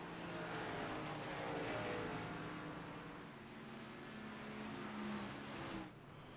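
Stock car engine droning steadily in a sim racing game as the No. 35 car rolls onto pit road, a continuous broadband roar that dips briefly mid-way and drops off near the end.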